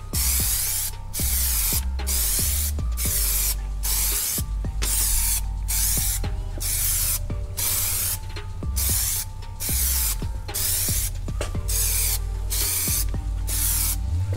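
Aerosol spray paint hisses in repeated short bursts onto Dodge RAM SRT-10 emblems, building up several coats, each loud close spray separated by brief pauses over steady background music.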